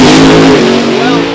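Funny Car drag racers, a Mustang and a Camaro, launch at Eddyville Raceway Park with a loud, close, roaring engine blast that holds steady and fades slightly.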